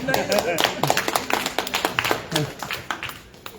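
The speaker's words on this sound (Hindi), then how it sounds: "ताली बजाओ" A yoga class in Virar, Mumbai claps for a participant with a run of sharp, close handclaps, loosely rhythmic and fading toward the end, with voices talking underneath.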